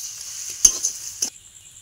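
Soybean cutlet mixture with ginger and coriander sautés in a pan, heard as two short scraping stirs with brief sizzling bursts, separated by near silence.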